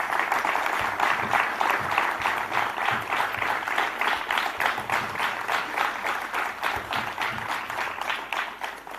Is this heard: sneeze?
no